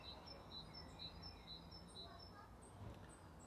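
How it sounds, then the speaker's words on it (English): Birds sing outdoors in the background, repeated high chirps and short whistled phrases coming faintly through a low, steady room hum, while a person speaks quietly in the foreground. "you can hear the birds singing in the background now as I'm recording this talk."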